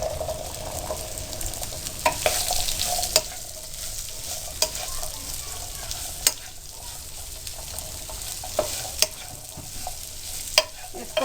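Chickpeas fry in a pan with a steady sizzle, broken by sharp scraping clicks of a spatula as they are tossed and stirred at close range, with no voices.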